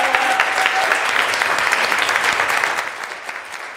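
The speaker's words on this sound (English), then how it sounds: "Please clap it up for the cello." Audience applause at a Boston City Council meeting for young cello players, a dense burst of clapping from a room full of people that tapers off slightly toward the end.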